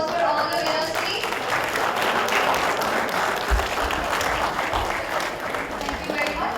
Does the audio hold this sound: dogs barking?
no